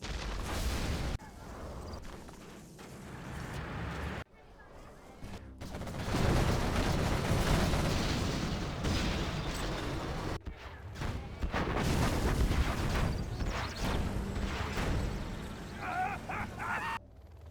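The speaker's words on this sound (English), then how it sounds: "artillery coming from Marakar" Artillery fire in a real-time strategy battle sounds as a fusillade of booms and gunfire bursts, loud and dense in waves, with pauses between volleys.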